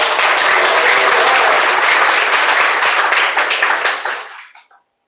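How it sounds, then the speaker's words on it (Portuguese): A church congregation claps in praise, producing loud, dense, sustained applause close by that thins out and stops after about four and a half seconds. "Pode glorificar Ele com as palmas"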